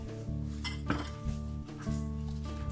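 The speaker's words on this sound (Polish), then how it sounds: "Najpierw kroimy szyneczkę w drobną kosteczkę." A kitchen knife dices ham into small cubes, with a handful of irregular knocks and taps on the board over a steady humming background.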